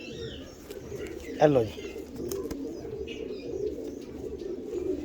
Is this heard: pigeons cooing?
yes